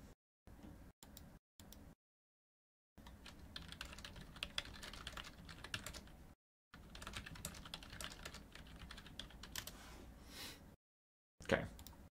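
Fingers typing on a computer keyboard, quick clattering keystrokes in short bursts and longer runs separated by silent pauses, close and fairly quiet, no talk.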